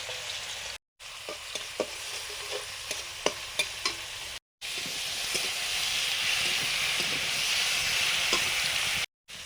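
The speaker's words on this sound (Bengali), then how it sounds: "নুন হলুদ মাখানো চিংড়ি মাছগুলো ভাজছি।" Shrimp coated in salt and turmeric fry in hot oil, a steady close sizzling hiss with frequent spatula scrapes and pops, broken by brief silent gaps.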